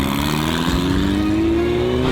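A loud, close Formula 4 race car engine revs with a gradually rising pitch, a rough, continuous roar with no voices.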